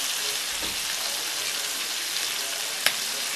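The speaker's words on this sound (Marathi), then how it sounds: "अशा प्रकारे आपण एका बाजूने व्यवस्थित फ्राय करून घेणार आहोत" Mackerel (bangda) frying in a pan, a steady close hiss of oil sizzling throughout with one faint brief clink near the end; no voices.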